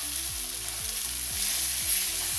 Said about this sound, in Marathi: आता मी त्यामध्ये घालते आपण जे हिरवी मिरचीचं वाटण केलं होतं खरड्याचं, ते घालते मी ह्यात